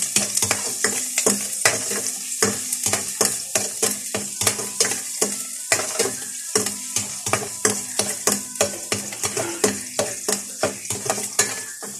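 Garlic and onions sizzle in a pan up close, with a utensil scraping and clattering against it in a quick, repeated stirring rhythm.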